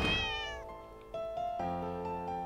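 A cat in The Cat Lady video game lets out a long, loud, close meow, followed by sustained tonal game music with no talking.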